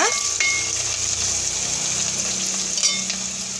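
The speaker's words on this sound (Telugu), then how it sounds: "ఒకసారి కాకరకాయ ముక్కలను తిప్పుకుందాం, మళ్ళీ మాడిపోతాయి" Bitter gourd pieces fry in hot oil in a pan, giving a steady close sizzle with scraping stir strokes as the pieces are turned, and no talking.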